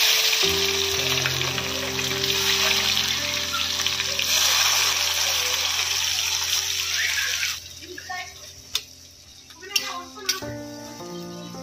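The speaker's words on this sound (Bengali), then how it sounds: "পেঁয়াজের টুকরোগুলো দিয়ে দেবো।" Onion pieces frying in a pan with bay leaves and cumin for a chicken curry, a steady loud sizzle with occasional stirring scrapes that quiets and turns to scattered clinks near the end.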